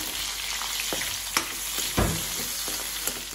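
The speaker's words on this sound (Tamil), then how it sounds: "அதையும் ஆட் பண்ணி நல்லா வறுத்துட்டுருவோம்" Chopped capsicum fries in oil in a pan while cooking kadai paneer: a steady, close sizzle runs throughout, broken by a few sharp spatula scrapes and taps on the pan.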